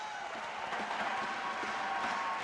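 A crowd of fans at a 1998 men's college volleyball game between IPFW and Ohio State roars steadily at game point in the Don Dome, a continuous dense wash of cheering with scattered claps.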